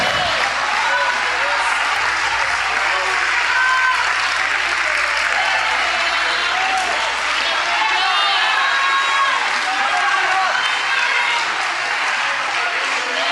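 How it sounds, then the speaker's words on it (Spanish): A church congregation on its feet applauds and cheers for Jesus Christ, a dense, continuous roar of clapping and voices that holds steady without a break, with the preacher's voice running over it. "Ponte en tus pies y dele un aplauso al Señor Jesucristo, por favor."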